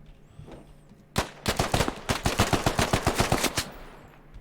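Enemy gunfire in the Squad video game: a rapid burst of about fifteen loud, close rifle shots in quick rhythm, following a brief quiet lead-in.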